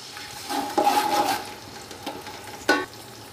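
Onions, ginger-garlic paste and tomato frying in oil for chicken pulao, a moderate sizzle with a few stirring scrapes and a sharper hiss as ingredients hit the pan.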